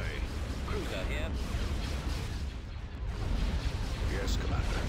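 Bombs exploding in the Empire at War space battle game, deep rumbling blasts and a dense boom-filled din that runs continuously under faint game sounds.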